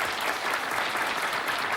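Studio audience applause on a Spanish TV game show, a steady dense clapping from a crowd that fills the whole moment without any talk over it.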